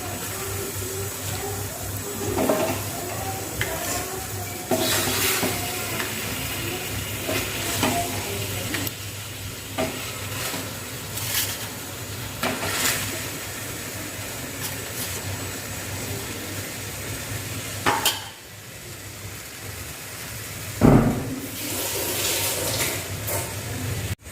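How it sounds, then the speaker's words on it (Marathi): Marinated chicken leg pieces fry in a kadhai for a leg piece gravy, a steady close sizzle broken by repeated scrapes and clatters of stirring, with no talking. "हे जे लेग पीस आहेत ते आपण आता परतून घेऊयात"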